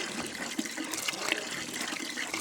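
Water trickling from a homemade well pump with no seal, spilling out where a half-inch pipe pokes out: a continuous close splashing flow, alone and fairly steady.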